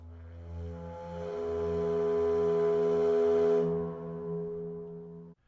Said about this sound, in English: she had bought this absolute monstrous sub-bass recorder